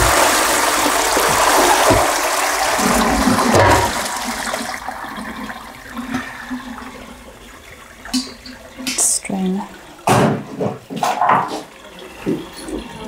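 Used tannin mordant bath water from oak gall powder is poured away, a loud rushing gush for several seconds that fades into intermittent splashes and trickles, with a voice speaking over the later part.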